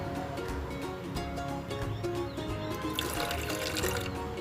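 Water poured into a pan of sugar to make syrup for biscuit gulab jamun, a steady close splashing pour that grows brighter and fuller toward the end, with no talk.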